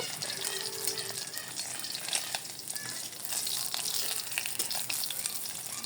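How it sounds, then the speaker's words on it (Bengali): Rohu fish frying in a pan, a steady dense sizzle with crackling spatter running continuously at close range, no voices. "একটু ভালো করে মাছটা ভেজে নিলাম"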